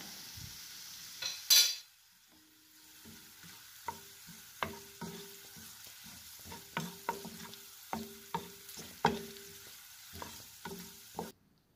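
Chopped onion with turmeric sautés in a pan, giving a quiet sizzle broken by regular scraping stirs and spoon taps against the pan, close and without talking.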